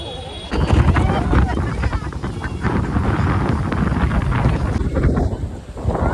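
Strong, gusting wind at Rushikonda beach roars and buffets the microphone continuously, loud and rough throughout.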